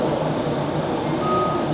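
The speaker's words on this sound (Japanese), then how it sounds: "1番線から特急岐阜行き発車いたします。" A Meitetsu 1800 series limited express, coupled with a 1200 series set, leaves Kanayama station with a loud, steady rumble that fills the whole clip.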